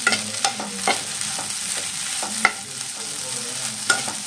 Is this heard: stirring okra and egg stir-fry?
yes